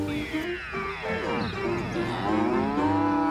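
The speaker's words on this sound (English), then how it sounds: "It's not a gun. This a cow." A cow moos loudly and at length, its long drawn-out call close and clear, with no other sound over it.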